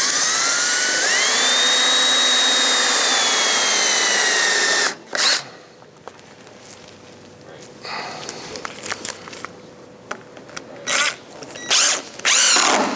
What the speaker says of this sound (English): Give me that drill for just a second.